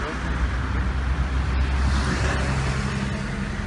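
Road traffic at a Denizli junction, where wrought-iron maintenance work has closed the road: a constant, loud, broad roar of passing cars and engines.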